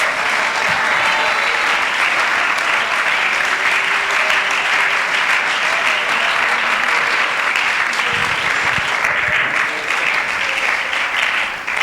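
A church congregation at a Spanish-language Sunday school service applauds in a loud, sustained, even roar of many clapping hands lasting the whole stretch, with faint voices beneath.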